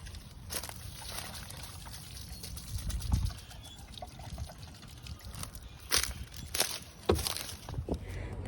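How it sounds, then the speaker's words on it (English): Water trickles and pours steadily onto the soil around a relocated pear tree in a spring garden, with soft footsteps, a few brief splashes and birds chirping in the background. "we are gonna water in the pear tree that we relocated and our 2 elderberries"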